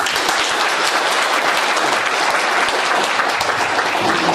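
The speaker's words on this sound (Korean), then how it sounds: "30년 동안 특강 중에 박수 3번 받기는 처음입니다" Lecture audience at a Korean talk breaks into loud, dense applause, a sustained wash of many hands clapping close by throughout with no pause.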